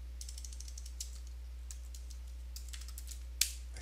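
Light, rapid keystrokes on a computer keyboard as a password is entered, a soft irregular patter of clicks with one sharper tap near the end, over a low steady hum in a quiet room.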